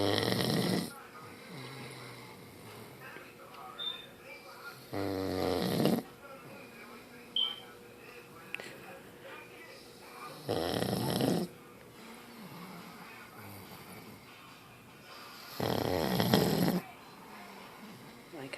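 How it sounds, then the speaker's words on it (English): A person snores in long, slow cycles, four loud rasping inhales spaced several seconds apart, with quieter breathing in between. "Mister, I don't snore."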